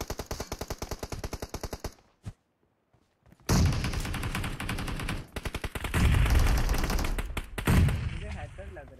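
Rapid automatic gunfire in PUBG Mobile, loud regular bursts that stop briefly after two seconds, then resume as heavy overlapping fire and booms with a voice talking faintly underneath.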